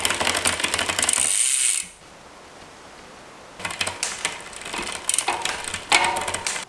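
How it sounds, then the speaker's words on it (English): Bicycle chain on a rear derailleur shifting into a bigger cog on the cassette, a loud ratcheting whir of spinning drivetrain, a pause, then clicking and clattering as the chain climbs, hesitating while it shifts. "Now we're going to shift the chain into a bigger cog, and there's probably going to be some hesitation."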